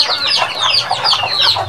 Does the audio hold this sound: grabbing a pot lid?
no